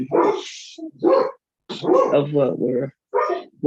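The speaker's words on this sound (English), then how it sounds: "My dogs are right under me. They hear me." Several dogs bark right beside the microphone in a run of loud, close yips and barks with short gaps between them, all of it heard indoors.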